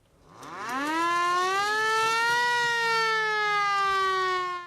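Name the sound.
siren of replica WWI ambulance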